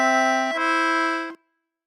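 A short Frère Jacques phrase played on an Anglo concertina: two sustained reedy chords, the first held briefly and the second held longer before a clean cutoff, close and clear with no voices.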